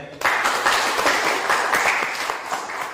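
A group bursts into applause and keeps clapping steadily and fairly close for a few seconds.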